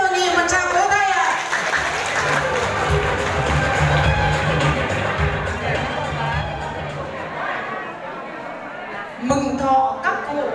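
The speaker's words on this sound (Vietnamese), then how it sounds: "xin hội nghị một tràng vỗ tay ạ" Sustained applause from the audience at a Lunar New Year longevity celebration for elderly residents in a Hanoi neighbourhood, loud and steady for about nine seconds, with a low musical drone beneath and a voice starting to speak at the end.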